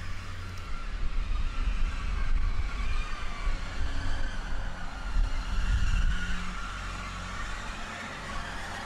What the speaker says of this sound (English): A Grand Central London King's Cross to Sunderland train with 180 112 James Herriot in charge.